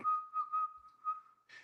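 A person whistles an imitation of Omar's signature whistle from The Wire, a clear, steady tune held close and loud for about a second and a half, with a brief breathy burst at the end.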